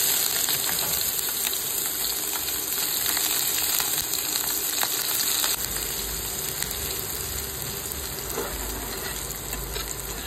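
Onions fry in a pan for chirer poha, a loud continuous sizzle with frequent stirring clicks and scrapes, steady throughout without speech.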